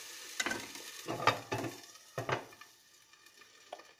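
Organic eggs fry in a nonstick pan with a lid, giving a quiet sizzle broken by a few scraping, clattering stirs and pan knocks close by, with no talking.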